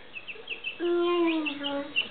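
A single chicken gives a drawn-out, wavering call lasting about a second, close by, with soft background noise and faint chirps around it.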